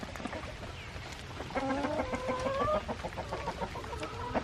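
Chickens cluck and squawk agitatedly in overlapping bursts, a busy flock close by with steady background noise.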